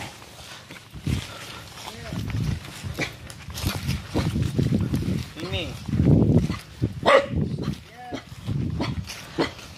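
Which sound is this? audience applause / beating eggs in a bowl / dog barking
dog barking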